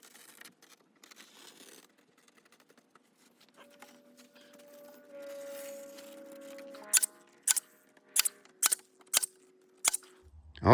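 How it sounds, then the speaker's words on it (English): Stapling and cutting during assembly of a Greenes cedar wood compost bin: a run of sharp, close staple-gun snaps in quick succession after quieter rustling and a brief cutting sound, no talk. "Cut the excess off and finish stapling it."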